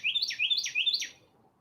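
A finch chirps three times in quick succession, each call a bright rising-and-falling tweet, close and clear with no other sound before fading to quiet.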